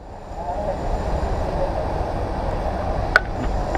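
A train at an Indian railway station, heard as a steady low rumble of rolling stock, with a single sharp metallic clank near the end.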